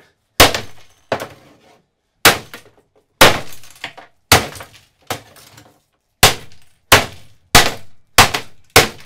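A waterlogged, rotten InWin 850-watt power supply is smashed apart, producing about a dozen loud, sharp metallic impacts with rattling debris, evenly spaced and close.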